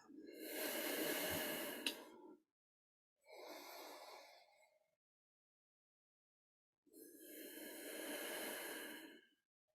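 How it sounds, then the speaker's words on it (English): Three slow, deep breaths during a yoga session, each a long airy inhale or exhale with a hissing, nasal quality, close and soft, separated by quiet pauses. "Breathing fully and deeply,"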